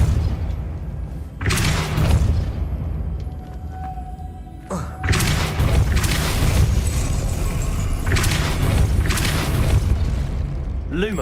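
Depulso spell effect in the Hogwarts Legacy video game: a few heavy booming blasts with a rushing whoosh, loud and close, separated by quieter ambient stretches.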